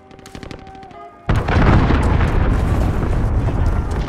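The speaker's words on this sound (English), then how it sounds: "Allied cruise missile away." A cruise missile strike in Call of Duty: Modern Warfare hits with a sudden loud explosion partway through, then a long rumbling roar of blast and debris, following quieter game sounds and distant gunfire.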